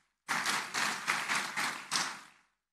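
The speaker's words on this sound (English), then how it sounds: "A round of applause, please." A short burst of applause from a crowd, steady clapping swelling in waves for about two seconds before stopping abruptly.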